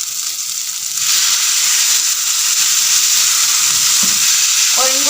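Onions and tomatoes fry in oil in a pan, a loud, steady sizzle that grows stronger after a second, with brief stirring clatter near the end and no talking.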